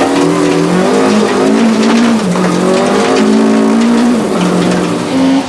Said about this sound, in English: Halbig is nursing the Sassel VW Golf to the finish